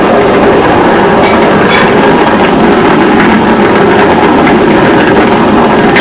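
Space Shuttle Atlantis on its final launch, main engines throttling back during ascent: a loud, continuous broadband roar with crackling rumble, steady throughout with no talk over it.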